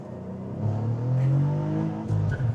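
A Cadillac CT4-V Blackwing engine revs hard and climbs in pitch, dips briefly at a no-lift gear change, then pulls again, loud and close from inside the car.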